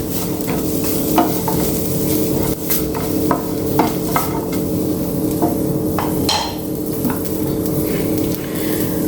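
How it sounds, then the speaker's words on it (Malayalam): Steady sizzling of food frying in a pan, with scraping stirs and occasional utensil clinks throughout. "ഇതെല്ലാം കൂടി നമുക്ക് ഒന്ന് വറുത്തെടുക്കാം"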